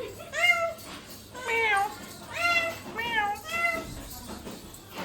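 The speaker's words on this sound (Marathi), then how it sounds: "इकडे मांजर आली आहे घरात." A house cat meows indoors, five or six distinct drawn-out meows spaced about a second apart at close range, with a quiet room hum behind them.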